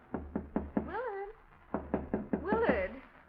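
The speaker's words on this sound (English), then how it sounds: "someone's knocking on your door" Knocking on a door in an old radio mystery drama: two quick series of sharp raps, each followed by a voice calling out, close and clear.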